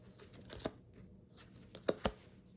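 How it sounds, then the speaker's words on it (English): Playing cards for a baseball card game being drawn and shuffled, soft papery riffles with a few sharp flicks and snaps, close and fairly quiet, no talking. "Each player will start by drawing a hand of 5 cards."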